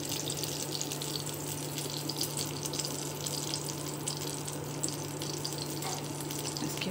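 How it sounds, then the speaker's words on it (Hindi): Eggplant slices fry on a hot tawa griddle, giving a steady, even sizzling hiss with a low constant hum underneath, with no talking over it. "हमारा तवा गर्म हो गया है, अब हम लोग डालेंगे ये बैगन का स्लाइस।"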